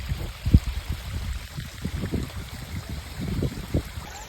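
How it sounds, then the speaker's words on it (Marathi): Flowing stream water in a rice-farming village splashes and gurgles close by as someone washes their hands and feet in it, with irregular sloshing bursts and no speech. "आता मी आलोय ह्या वाहत्या पाण्यामध्ये माझे पाय आणि हात धुण्यासाठी."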